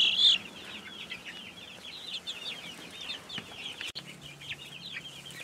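Egg-laying hens mixed with Red Ranger chickens cluck and chatter inside a portable chicken tractor, a continuous busy flock sound at close range with overlapping bursts and one loud squawk at the start.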